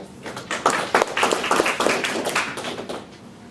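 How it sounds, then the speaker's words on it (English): An audience at a university speaker series welcomes the speaker with scattered, close hand claps that build, hold briefly, then thin out as the applause fades. "So if everyone would give a warm welcome and round of applause."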